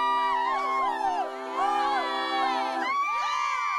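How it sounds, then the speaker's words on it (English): A tearful group of women bursts into joyful screaming and shrill cheering together, voices overlapping loudly and continuously, with a swell and second burst near the end. "The tearful group erupted into screams of joy."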